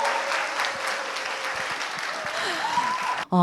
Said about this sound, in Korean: 클래식 기타리스트 안영수 선생님을 여러분 큰 박수로 맞이해 주시기 바랍니다.